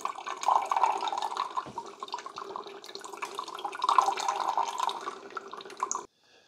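A Farberware touchscreen K-Cup coffee maker pumps water during vinegar descaling: steady rushing and gurgling, continuous and fairly loud for about six seconds before cutting off abruptly.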